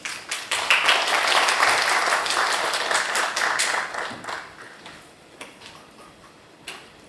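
An audience at a Korean pharmaceutical, biotech and healthcare forum applauds with loud, dense clapping for about four seconds, which then thins to a few scattered claps and fades away.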